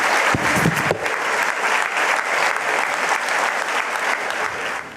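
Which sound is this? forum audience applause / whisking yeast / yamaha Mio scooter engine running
forum audience applause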